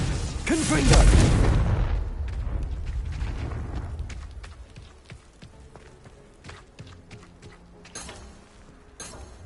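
In the video game Hogwarts Legacy, a Confringo fire spell lets off a loud, deep explosion that rumbles and fades over a few seconds, followed by footsteps and scattered smaller impacts while a voice speaks.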